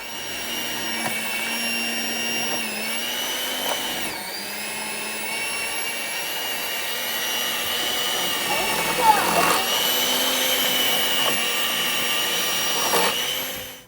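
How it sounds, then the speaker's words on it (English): An electric hand mixer whines steadily as it scoops the guts out of a pumpkin, a loud, close motor drone that shifts in pitch as the load changes. "But believe it or not, that was actually done by a hand mixer."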